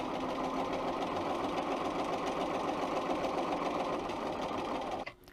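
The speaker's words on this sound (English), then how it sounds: "I'm going to sew along there" A Bernina 135 sewing machine stitches a fabric seam in one steady, close, whirring run of rapid stitches that stops abruptly just before the end, with a short clunk as it halts.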